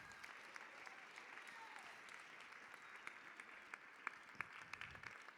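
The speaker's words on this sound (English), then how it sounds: "let's give those people a big round of applause" Steady audience applause at a fundraising gala, a dense wash of many hands clapping throughout with scattered louder claps.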